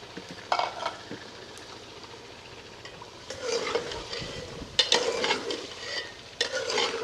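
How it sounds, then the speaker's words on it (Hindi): Pieces of chicken meat go into a pan of sizzling achari masala. There is steady frying hiss, with intermittent clinks and scrapes as the spoon stirs against the metal pan, and no talking. "अब हम इस मौके पे इसमें गोश्त डाल लेते हैं।"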